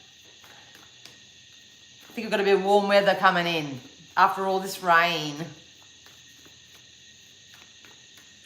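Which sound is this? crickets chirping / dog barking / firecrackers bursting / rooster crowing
crickets chirping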